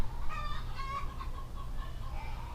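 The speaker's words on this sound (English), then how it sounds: "So if you hear them balking back there, that's the chickens." Backyard chickens cluck and squawk in short bursts at a moderate distance, over a steady low background rumble.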